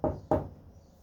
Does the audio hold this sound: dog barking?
no